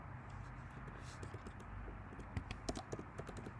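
Computer keys clatter in short, irregular bursts as Python code for a calculator program is typed, close by over a steady background hum.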